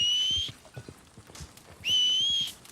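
Two sharp, high whistles call a horse in Red Dead Redemption 2. Each lasts about half a second and they are separated by soft hoof clops and faint movement sounds.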